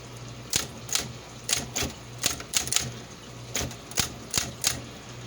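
An old Smith Corona typewriter with a worn ribbon being typed on one-handed, giving a close, uneven run of sharp mechanical key strikes and clacks over a faint steady background hum.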